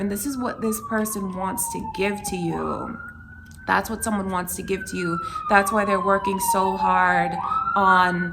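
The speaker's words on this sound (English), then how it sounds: "It's an ambulance going by." An ambulance siren wails past, its rising and falling tone sweeping on and off beneath someone talking steadily close to the microphone.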